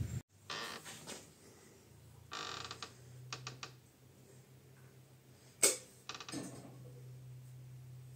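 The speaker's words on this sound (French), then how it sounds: "t'arrêtes de faire cligner la porte" A door creaks and clicks repeatedly in short bursts with a sharp knock partway through, heard up close against a low steady hum, at a winter carp-fishing pond.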